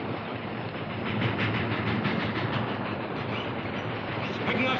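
A train rumbles steadily along the tracks, a continuous rolling roar with faint rhythmic clatter, fairly close.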